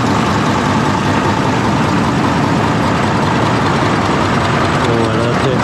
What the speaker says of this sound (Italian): il camion che ha quasi 100 anni, non so l'anno di questo camion, ma siamo intorno agli anni 40-60, ha un rumore